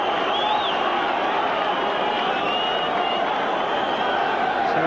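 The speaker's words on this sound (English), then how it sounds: "Cheers from the Everton fans as they win it back again" Broad, steady roar of a large football crowd of Everton fans at a 1988/89 First Division match against Liverpool, sustained at full volume throughout with a commentator's voice faintly underneath.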